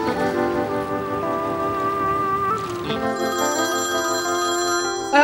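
A phone rings with an incoming call, a steady electronic ringtone repeating in clear tonal bursts that switches to a brighter pattern partway through, loud and close with no voices.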